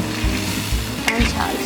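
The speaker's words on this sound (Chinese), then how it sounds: "翻炒一下。" Green peppers stir-fry in a hot wok with a dense, close sizzle and a few soft scrapes of the spatula turning them, steady and without voices.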